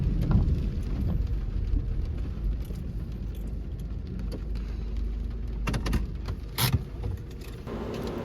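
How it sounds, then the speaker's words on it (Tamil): Rain falling at a hilltop viewpoint in Makkah during a thunderstorm, a steady broadband wash of downpour with low rumbling and a few brief sharper bursts, close and continuous with no talking. "நல்ல கிளைமேட்டு செம்மையாக மழை பெஞ்சிக்கிட்டு இருக்குது இடி வேறு மின்னல் வேறு"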